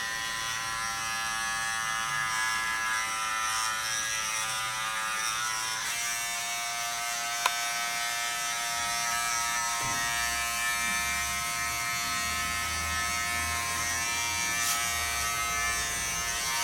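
Electric hair clippers without a guard cutting hair at the side below the ear for a classic men's cut, giving a steady, close buzzing drone with slight shifts in pitch as the blade moves through the hair.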